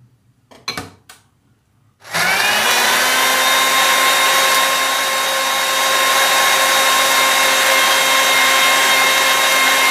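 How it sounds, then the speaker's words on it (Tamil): After a couple of brief knocks, a kitchen blender switches on and whirs at a loud, steady high speed, blending pomegranate for juice without pause. "பிளெண்டரில் இட்டு பிளெண்ட் பண்ணிக்கணும்."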